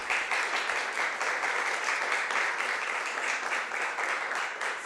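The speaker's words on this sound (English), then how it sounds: "let's get an applause for our speaker" Audience at a research-based learning symposium applauding a speaker after a talk, a steady dense clapping that holds loud and even for about five seconds with no voices over it.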